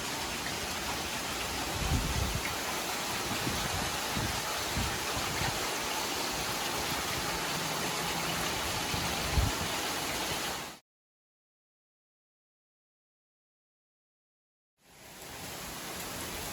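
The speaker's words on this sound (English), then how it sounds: "You can see the rain blowing in the wind," Steady rain hisses and rushes during Hurricane Milton in 2024, with low rumbling gusts beneath it; the sound cuts out to silence for a few seconds before returning.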